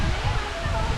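Talakona waterfall, reached on foot after a forest trek, sends a steady, close roar of falling water that fills the whole moment without a break.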